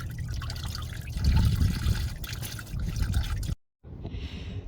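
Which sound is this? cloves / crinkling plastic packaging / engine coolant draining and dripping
engine coolant draining and dripping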